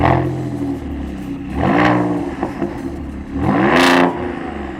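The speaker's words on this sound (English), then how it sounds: "I have to say the first generation Raptor sounds much better" A first-generation Ford Raptor truck engine revs hard in two rising bursts with a lower idle rumble between, loud and close with no talking.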